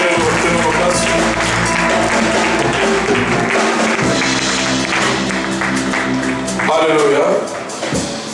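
A church congregation at an evangelical crusade applauds and cheers to acclaim the Lord, a dense, steady wash of clapping blended with music and raised voices throughout.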